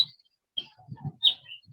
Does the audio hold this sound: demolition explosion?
no